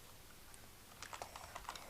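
Names typed on a computer keyboard during a Python lists lesson: a quiet stretch, then a short burst of rapid, light key clicks close by.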